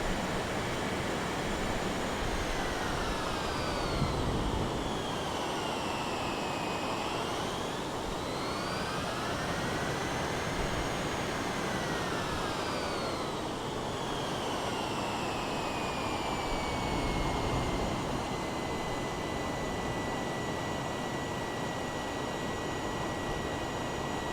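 Steady aircraft engine drone in Microsoft Flight Simulator during a flight from KFOE to KFFT, a continuous broad roar with tones that rise and fall as the aircraft turns, with no talk.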